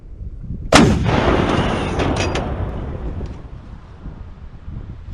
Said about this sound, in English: Let's load up this cannon